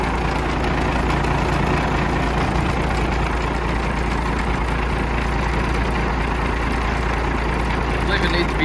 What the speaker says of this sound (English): It's idling kind of low, around 500 or so.